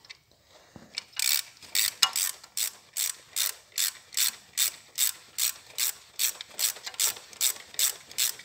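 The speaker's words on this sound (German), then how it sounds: "Die werden wir jetzt schon mal ein bisschen festziehen." Ratchet tightening screws on the coolant flange of a VW Golf 4 or Opel Vectra C, a quick series of sharp, regular clicking bursts close up after a few faint taps.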